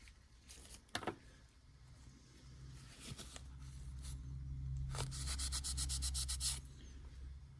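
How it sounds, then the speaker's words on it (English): Abrasive sanding on anodized aluminium, faint gritty rubbing strokes in short bursts with a few louder scrapes, quiet and close. "Just sand a bit and get through the anodized layer."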